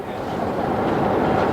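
A train at Edinburgh Waverley station gives off a continuous loud low rumble, close and steady, with no voices.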